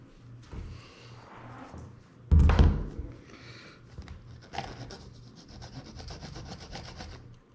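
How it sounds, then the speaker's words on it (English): A knife cutting diagonally through a peanut butter sandwich: quiet, close scraping and rubbing with one short thump partway through, then more soft sawing strokes. "Very important, cut peanut butter diagonally from one corner to the other."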